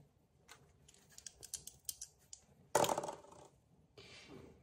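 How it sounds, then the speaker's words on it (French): Two small dice rattle and clatter in quick taps, then a louder burst as they tumble onto a hard surface, followed by a brief scrape. "Je vais tirer les 2 dés."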